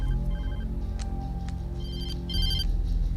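A cell phone rings in the Alan Wake video game, a bright electronic ringtone repeating in short melodic bursts for a few seconds, clear and close over a low ambient game hum.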